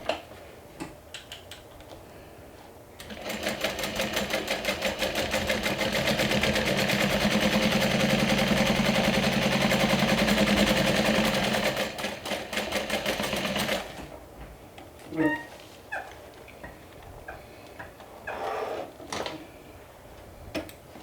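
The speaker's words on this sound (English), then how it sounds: "I'm going to top stitch this seam allowance down" A sewing machine top stitches a seam allowance on a garment panel, starting after a few handling clicks and running in a rapid, even mechanical chatter for about eleven seconds before stopping, followed by scattered fabric rustles and clicks.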